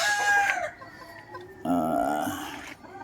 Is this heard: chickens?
yes